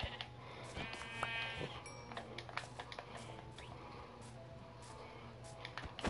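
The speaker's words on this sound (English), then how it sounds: "Got this sheep, this cow." Sheep bleating in Minecraft, a short wavering bleat near the start followed by scattered clicks and soft in-game ambience, no talk.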